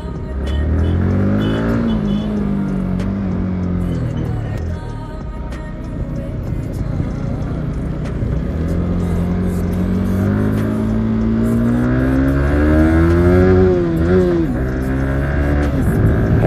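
A motorcycle is ridden steadily with its engine droning and rising and falling in pitch through gear changes and revs, loud and close throughout on a wet road, without any talk.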